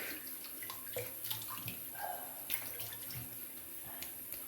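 Karve OC-D plate safety razor being rinsed under a running tap after a shave, a steady faint wash of water with small splashes and drips throughout.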